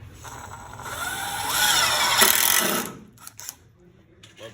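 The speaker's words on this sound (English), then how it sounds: "We have our impact drill and our 1-inch wood screw." An impact drill drives a 1-inch wood screw into an electrical box, its motor whining and climbing in pitch for about three seconds before stopping, followed by a few short clicks and taps.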